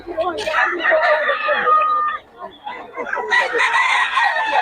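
A loud, strained rooster crow rings out close by, followed by another crowing call, with voices and clucking mixed in.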